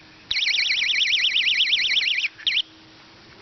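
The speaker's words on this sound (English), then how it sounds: "As soon as they trip along that string and pull this away, alarm." A simple string-triggered tripwire perimeter alarm for off-grid security sounds close and loud, a warbling electronic siren wailing steadily for about two seconds, cutting out, then giving one short final burst before silence.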